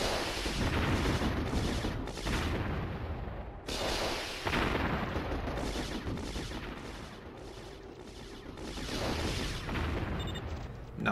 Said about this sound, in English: some of these shots are definitely doing damage